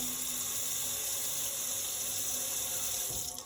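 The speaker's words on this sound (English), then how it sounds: "Did you say a faucet? Yeah, that's also called a tap." Kitchen faucet running steadily into a sink, a continuous close hiss of flowing water that stays even throughout and tails off slightly at the very end.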